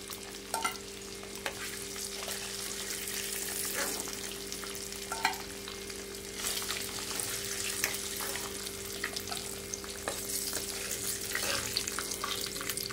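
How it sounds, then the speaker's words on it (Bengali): Eggs frying lightly in oil, a continuous soft sizzle and crackle with occasional stirring scrapes, steady and fairly quiet, joined by a faint constant hum. "ডিমগুলো একটু লাল লাল করে ভেজে নেবো, হালকা, খুব বেশি ভাজার দরকার নেই।"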